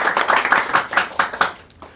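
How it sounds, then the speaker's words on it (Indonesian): Audience at a comedy show clapping for a guest, a dense burst of handclaps that peaks early and gradually thins out over two seconds. "Tepuk tangan buat Kojo, special thanks."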